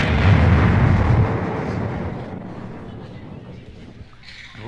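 A voice imitates an explosion: a loud, rumbling burst of noise that slowly fades away over several seconds.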